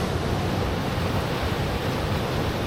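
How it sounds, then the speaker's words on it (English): A river rushing through the narrow Strid gorge in the Yorkshire Dales, a dense, steady roar of turbulent water heard alone without a break. "I've been keeping an eye out for this section where the river narrows."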